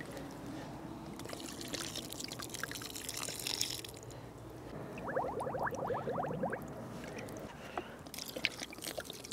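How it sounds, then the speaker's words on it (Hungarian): Lake water is poured into a carp bait mix, giving a short, close gurgling pour in the middle of the clip over faint outdoor background noise. "200 ml víz kell hozzá, ezt a legegyszerűbben a tóból nyerem."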